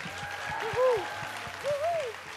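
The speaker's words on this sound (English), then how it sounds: "huge round of applause for Malaika Arora, ladies and gentlemen." Steady applause from a crowd at a launch event fills the space beneath a thumping rhythmic beat and a singing voice.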